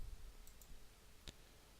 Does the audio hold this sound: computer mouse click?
yes